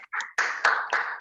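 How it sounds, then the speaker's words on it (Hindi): An audience at a leadership talk clapping to welcome the speaker, Premjeet: a short burst of claps in uneven pulses, close and fairly loud, with no voices. "जोरदार तालियों के साथ"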